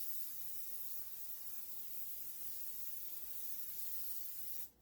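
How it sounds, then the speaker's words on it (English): Olive oil hisses from a spray bottle onto breaded chicken coated in pork rind and parmesan, as one long continuous faint spray that cuts off abruptly at the end. "I forgot that I like to spray the top of it with olive oil."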